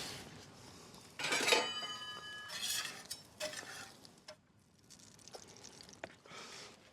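Ahi tuna flipped on a hot griddle gives a soft scrape of a spatula and faint sizzling, with a couple of brief metallic clinks, quiet and close.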